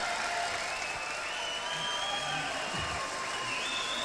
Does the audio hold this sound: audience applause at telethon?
yes